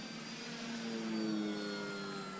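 Radio-controlled airplane powered by a Turnigy 850 kV brushless outrunner motor, roughly 3542 size, flying overhead with a steady high-pitched electric whine and tonal hum, continuous and moderately loud without any speech.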